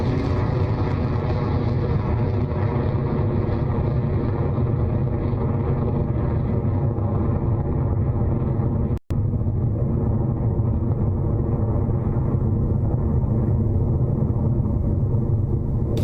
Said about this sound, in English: Our 50th Electron rocket has taken flight and is headed to orbit carrying 5 satellites for Kinesis